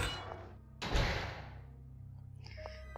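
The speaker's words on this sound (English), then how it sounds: "The door was unlocked." A door unlocking and swinging open in the horror video game Corpse Party: a sudden heavy thud with a short rattle that fades into a low, droning background ambience.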